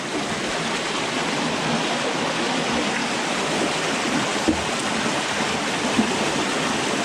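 Strong river current rushing beneath a bridge, a steady, loud broadband wash of flowing water that holds constant throughout with no voices.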